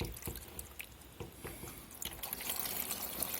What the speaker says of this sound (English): We're just going to pour some water up here and see if it leaks.